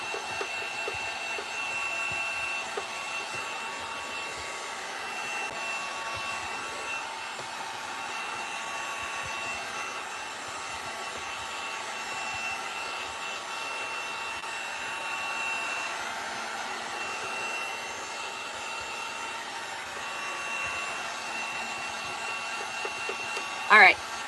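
A hair dryer blows steadily on a freshly painted DIY wooden sign, a close, continuous whirring hum that holds at an even level for the whole stretch, with a brief bump right at the end.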